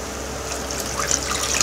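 One litre of water pours into a pot for cornmeal soup, a continuous splashing trickle close by that stays steady throughout.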